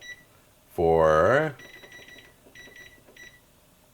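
A kitchen timer is set while chicken noodle soup simmers: a brief spoken word is followed by several short clusters of crisp electronic beeps, close and moderately loud.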